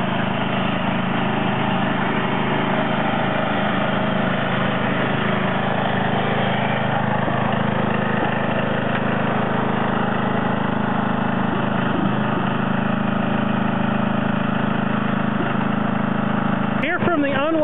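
A John Deere 111 lawn tractor engine idling after a cold start, a steady, loud, close mechanical drone that holds even for the whole stretch, with muffled voices faintly under it and a brief sharp chirp at the end.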